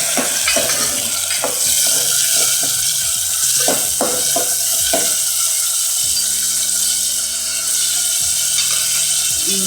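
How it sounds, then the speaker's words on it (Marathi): Tomatoes tipped into a hot pan for a black-eyed pea amti, a loud continuous sizzle close up with scattered stirring clinks and scrapes, no voices. "आता याच्यामध्ये टोमॅटो टाकूया."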